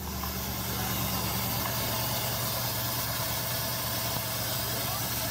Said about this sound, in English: Has a nice sound to the exhaust.